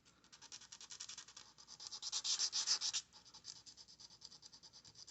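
Emery board rubbing along the edge of a cut acrylic star shape, a close rapid scratchy back-and-forth that grows louder and harsher midway, then eases to lighter strokes.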